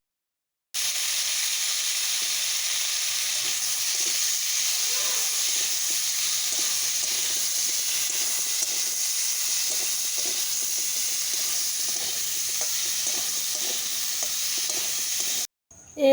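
Cut sweet potato hits hot oil with dried chili and black cumin, bursting into a loud, steady close sizzle that hisses on evenly for many seconds before cutting off.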